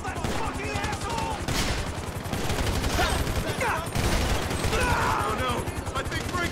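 Dense, rapid automatic gunfire in GTA V during a construction-site shootout, sustained bursts of machine-gun fire that keep going throughout, with shouting voices mixed in over the shots.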